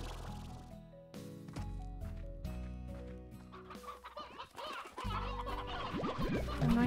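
Chickens clucking in the Slime Rancher video game, a run of repeated close, clear clucks and squawks over a steady tonal game music bed, with a wet squishy sound near the end.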